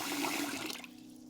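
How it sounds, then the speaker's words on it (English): Water splashes and swishes loudly close by as rice is rinsed, a short burst that tapers off at the end. "I start off by rinsing my rice 2 or 3 times to remove some of the extra starch"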